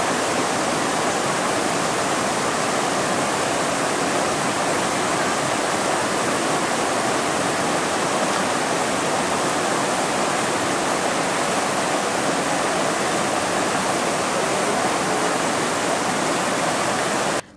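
River rapids on a Canadian wilderness expedition, a loud steady roar of rushing water that holds unbroken for the whole stretch with no voices.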